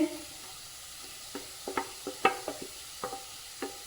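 Potatoes fry in a spice masala for a spinach, vegetable and khoa samosa filling, with a soft sizzle under irregular spoon scrapes and taps from stirring, close by and without talk.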